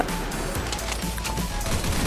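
Rapid gunfire from the shooter video game Crisis Action crackles in dense, overlapping bursts, loud and continuous throughout with no voices.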